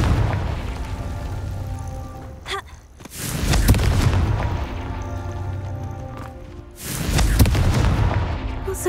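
The Confringo spell in the video game Hogwarts Legacy sets off heavy, booming explosions, two loud blasts with rumbling tails amid continuous game effects and ambience.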